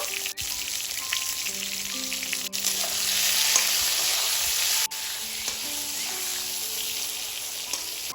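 Steady, loud sizzling of eggplant frying in hot oil, continuous throughout with a few brief clicks and faint background tones.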